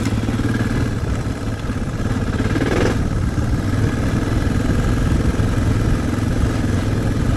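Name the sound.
DR650 dual-sport motorcycle engine riding on a mountain trail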